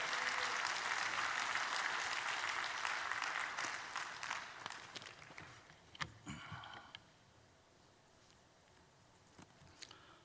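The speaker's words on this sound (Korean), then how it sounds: "박수로 한번 격려하겠습니다" Church congregation applauding to welcome a pastor to the front at a large national prayer rally, a dense steady clapping that fades out after about four seconds, leaving scattered claps and quiet room noise.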